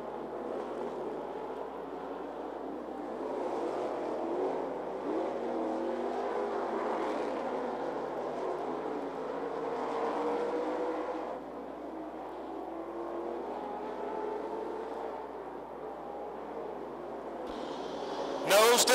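Street stock race cars roar around the back straightaway at 411 Motor Speedway, a steady distant engine drone that swells and fades as cars pass, ending with a sudden loud burst close by.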